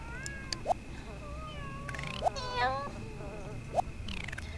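Cat meowing in The Sims video game, three short distinct meows spaced evenly over a few seconds, fairly faint, with a soft voice briefly talking between them.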